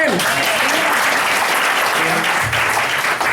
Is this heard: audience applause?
yes